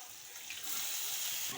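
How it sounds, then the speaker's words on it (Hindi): Water pours steadily into a cooking pot for chicken Kabuli pulao, a soft continuous splashing that grows fuller partway through. "अब हम इसमें 8 कप इसमें पानी ऐड करेंगे।"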